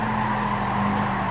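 A race car slides sideways in the Gran Turismo 5 video game, giving a steady, close tire squeal over a constant engine drone throughout.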